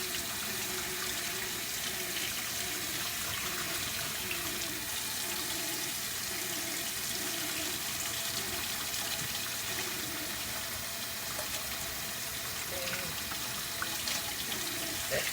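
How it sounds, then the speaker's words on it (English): Tap water running steadily into a sink or basin for hair washing, a continuous close hiss of flowing water lasting throughout, with faint talking underneath. "Let's turn up some water on."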